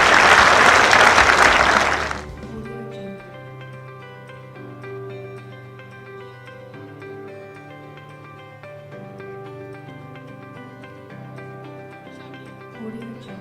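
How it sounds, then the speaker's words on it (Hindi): Audience applause at a ceremony, a loud burst of clapping lasting about two seconds that gives way to quiet instrumental music. "एक बार जोरदार तालियां।"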